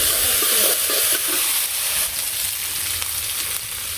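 Onion, ginger and spices frying in oil while being stirred, a loud, continuous hissing sizzle with soft scraping, close and steady throughout.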